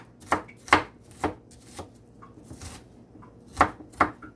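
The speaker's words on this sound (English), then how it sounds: "I am gonna be cutting up, dicing up some onions" A white onion being diced on a cutting board: about eight distinct knife chops landing irregularly, crisp and close, with quiet pauses between strikes and no talking.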